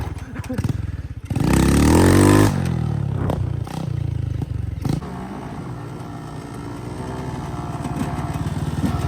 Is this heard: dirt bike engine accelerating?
yes